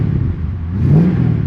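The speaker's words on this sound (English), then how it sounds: "the car will physically just move under the power of this engine that's been shoehorned in this engine bay" A Mercedes W123 230E with a 5.6 litre engine swapped into its bay revs close by, a loud, deep rumbling idle swelling into a brief rising rev partway through, with no talk.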